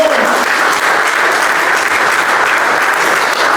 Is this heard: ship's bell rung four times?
no